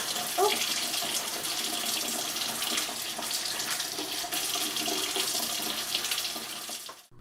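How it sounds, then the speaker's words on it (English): Potatoes washed by hand in a kitchen sink for German potato salad, with steady running tap water splashing close by for the whole stretch and a brief faint voice near the start. "got the potatoes into clean water, washed them"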